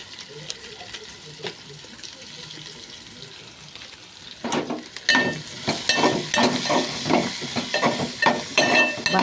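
Boiled potatoes fried with spices in a pan: a quiet background at first, then louder sizzling with repeated scraping stirs that come in a quick, uneven rhythm for the last five seconds.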